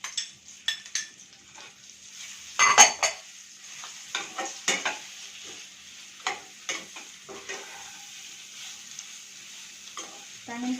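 Three large smashed potatoes being sautéed in a pan, a low sizzle broken by frequent clattering stirs and scrapes of a utensil against the metal, close and uneven in rhythm, with no voices.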